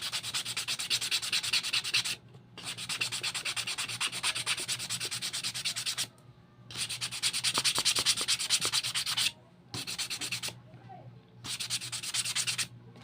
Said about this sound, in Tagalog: So liha lang tayo ng liha.